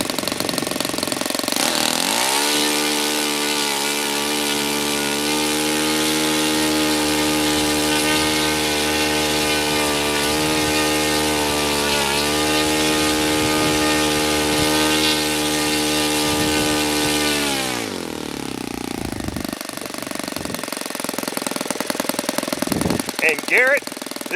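A Saito FA-72a four-stroke model engine holds a steady, loud idle for about sixteen seconds, then cuts off abruptly, leaving quiet handling noise.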